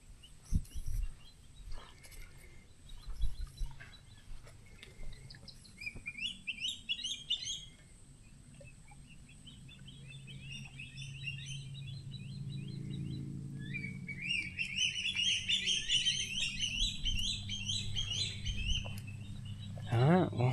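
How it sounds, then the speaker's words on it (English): Birds chirp and tweet in repeated bright trills outdoors along the Suwannee River trail, over a low rumbling background and some quiet movement noise, growing fuller toward the end. "Look at all the birds out here."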